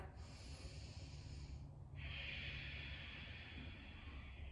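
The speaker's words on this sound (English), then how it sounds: "One more breath." Soft, steady breathing during a yoga forward bend, faint and close, with one slow breath cycle and a brief pause near the middle and no talking.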